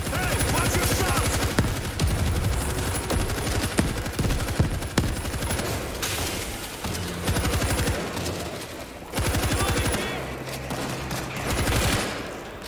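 Rapid video game gunfire rattles almost nonstop in dense automatic bursts with brief pauses, loud and close, layered over a low background hum.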